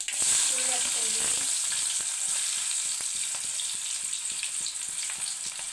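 Chopped dill and onion sizzle steadily in hot oil in a pan, a dense crackling hiss with a few stirring scrapes, close and unbroken throughout.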